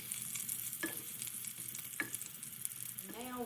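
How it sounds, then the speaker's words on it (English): Butter melting in a soup pot: soft steady sizzling with a few faint stirring taps, fairly quiet and continuous. "Now we're going to melt our butter."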